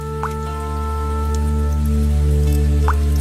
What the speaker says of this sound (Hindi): छत टपकती है